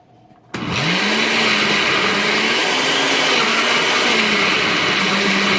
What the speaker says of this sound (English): Then I'm going to get the blender, and we're going to blend it.